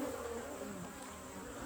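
Honey bees in an open hive that is raising drones, a soft continuous buzzing hum from many insects close by, faint and even throughout with no voices.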